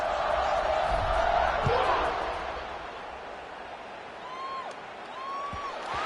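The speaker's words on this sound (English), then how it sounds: "this crowd now ready to get behind them" A stadium crowd roars at the kick-off of an American football game, a loud sustained wash of noise that eases after about two seconds while a commentator talks over it.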